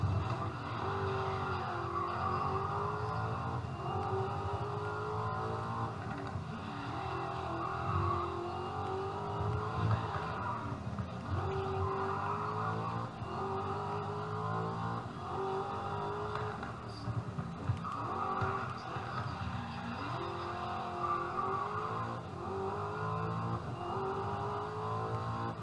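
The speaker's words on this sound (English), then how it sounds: "These race cars sure do have like really tight gears." Race cars in the GRID Legends racing game roar through tightly geared shifts, engines rising and dropping repeatedly while tires squeal and skid through corners, a continuous loud mix of revving and screeching with no talking.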